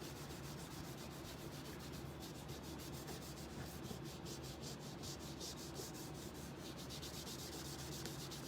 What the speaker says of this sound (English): So I still have a little bit of wax on this cloth, so I'm just gonna rub it.